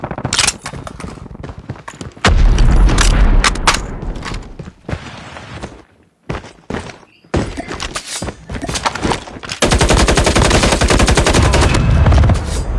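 Machine gun fire in Call of Duty Mobile comes in loud, close rapid bursts separated by short gaps, with sharp single shots and thumps between them and a long sustained burst near the end.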